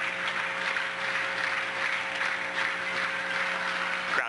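Applause from a crowd rising to its feet in the Red Devil Gym, a large school gymnasium at a basketball game. A steady, fairly distant wash of clapping lasts throughout, with a low steady hum beneath it.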